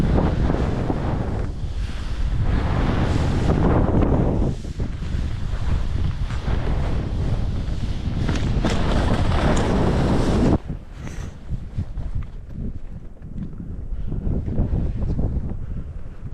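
Strong gusting wind buffets a GoPro 11 camera microphone on a ski slope at Santa Caterina, a loud continuous roar that drops sharply near the end and then continues more weakly.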